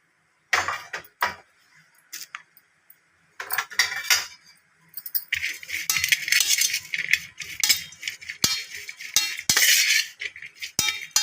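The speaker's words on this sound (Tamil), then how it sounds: "காய்கறியெல்லாம் ஒன்றா மிக்ஸ் பண்ணணும் பாருங்கள் நல்லா மிக்ஸ் பண்ணலாம்" Metal spoon clinks and scrapes against a bowl in bursts, then continuous rustling and rattling as dry puffed rice with vegetables and spices is stirred and tossed, close up.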